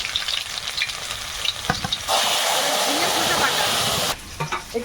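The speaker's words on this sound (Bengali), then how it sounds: "এদিকে কড়াইয়ে একটু কালো জিরে দিলাম" Black cumin seeds frying in oil in a kadai, a near, steady sizzle with stirring clatter that swells into a loud, dense hiss for a couple of seconds before easing back, with a voice faintly audible underneath.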